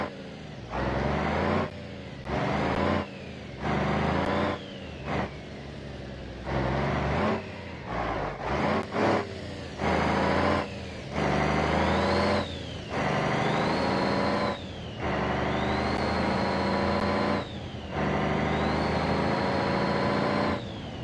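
A truck engine in the driving game BeamNG.drive revs in repeated bursts with gaps between them, its pitch rising and falling with acceleration, moderately loud and with no talking.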